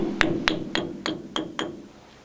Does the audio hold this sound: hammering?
yes